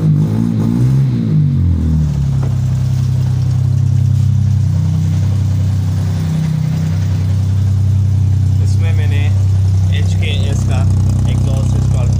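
A Suzuki Mehran (Maruti 800 type) small car engine runs just after starting first try following a couple of months parked, a steady close idle hum with a slight rev dip, while someone talks over it.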